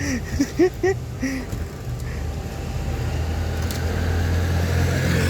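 A motorbike engine catches after kick-starting and settles into a close, steady running note that swells as it is revved, with brief voices at the start.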